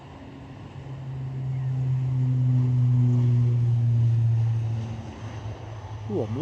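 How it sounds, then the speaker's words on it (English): An ATR turboprop airliner departs Edinburgh Airport, its steady low engine drone and propeller hum swelling to a loud peak mid-clip before easing off, with a rumbling wind-like wash throughout and no talking. "That is the best sounding ATR departure of the show."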